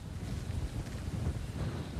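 Hurricane Florence wind roaring against a microphone, a continuous low buffeting rumble that gusts and swells without letting up, with no voices.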